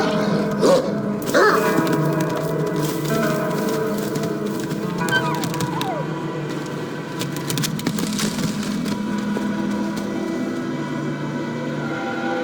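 A pup barks in the game world of Asgard, with a few yelps and barks near the start over a busy rumbling ambient background and scattered clatter, then sustained game noise.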